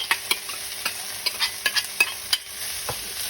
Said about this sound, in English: So next we're going to put in the bacon.